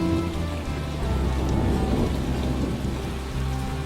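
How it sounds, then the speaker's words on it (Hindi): Heavy rain pours steadily in a thunderstorm while low thunder rumbles beneath, a dense, continuous downpour with no voices. "वह तड़कती बिजली और तेज बारिश में अपनी गुफा को छोड़कर गांव की ओर निकल पड़ते हैं।"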